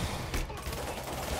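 Rapid gunfire in a Spider-Man video game, with bursts of shots crackling continuously and loudly throughout.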